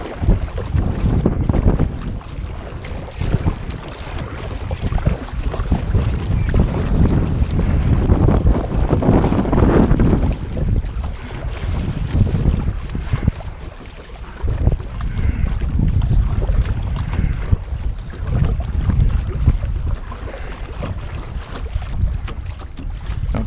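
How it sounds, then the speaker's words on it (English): A Seaflo adult sit-on kayak pushes into the wind on open water, with heavy wind buffeting the microphone and irregular paddle splashes and water slaps rolling through loudly and continuously. "we're heading into the wind now, so we'll see how it handles the little splashes and whatnot"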